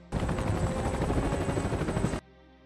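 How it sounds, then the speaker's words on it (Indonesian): Three helicopters lift off together in an action film, a loud, dense rotor roar with rapid thumping that holds steady and then cuts off abruptly. "Sedangkan 3 helikopter berangkat lebih dulu."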